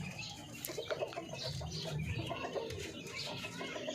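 Native darag chickens cluck and coo in a steady, close flock chorus with scattered bird calls over a constant farmyard background, no talking.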